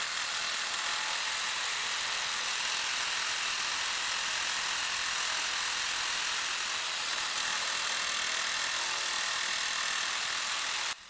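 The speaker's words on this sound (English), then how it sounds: "So now we got some rebar, which is a real pain in the butt to cut with the Recip." A cordless Dewalt Xtreme 12V subcompact reciprocating saw with a new Diablo blade cuts through rebar, giving a steady, loud, harsh buzzing rasp that runs without a break for about eleven seconds and then stops.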